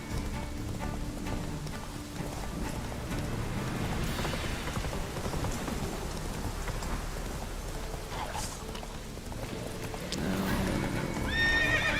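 Geralt's horse Roach in The Witcher 3 video game gallops with steady clip-clop hoofbeats and neighs, over a rain-like background and game music, loud and continuous throughout.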